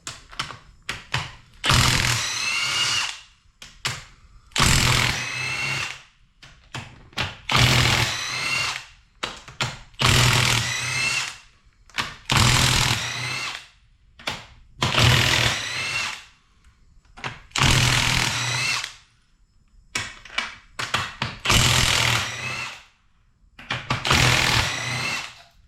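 A power tool removes one-time-use head bolts from an SRT4 engine, whirring and rattling in about ten evenly spaced bursts of a second or so. Each burst is loud and close, with short quiet gaps between them.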